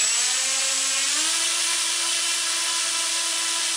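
Tiny copter propeller motors spinning at high speed, a loud, piercing, steady whine with pitch rising slightly as they are turned up, no talking.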